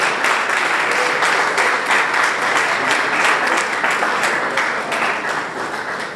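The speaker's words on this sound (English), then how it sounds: "please keep clapping" Steady, dense applause from a crowd at a Nigerian Bar Association branch opening ceremony, many hands clapping continuously for several seconds and easing slightly toward the end.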